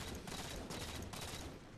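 Sniper rifle fire in Halo 4 multiplayer, a burst of loud, dense gunshots running through the whole stretch with no clear gaps between reports.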